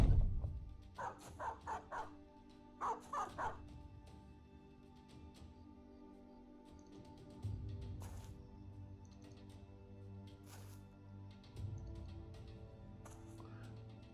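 Dogs bark in the video game Battle Brothers, several short yaps clustered early on, followed by quieter game sounds and intermittent clicks.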